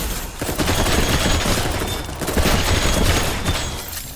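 In the video game Dolls Nest, bursts of rapid weapon fire ring out close and loud, a dense volley that swells and fades over a few seconds with no talk.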